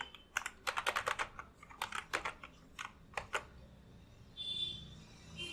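Crisp clicks from a computer keyboard as text is typed for a wedding card design, quick close bursts of keystrokes with pauses between, and no voices.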